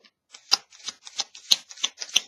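Tarot cards shuffled for a reading, a run of crisp, riffling bursts repeating at a steady pace, close and fairly quiet with no talk.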